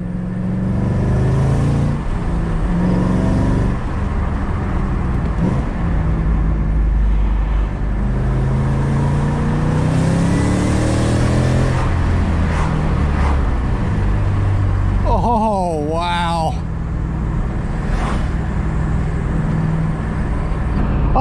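2008 Shelby GT500 with a Lethal Performance H-pipe exhaust, a loud steady V8 rumble with repeated rises in engine pitch as it revs and pulls, plus a sharp squealing burst near the end.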